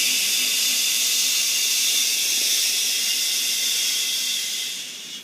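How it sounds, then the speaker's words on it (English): One long, steady shh of breath, close and loud, a continuous hiss that fades out at the end. "We're going to do a shh sound."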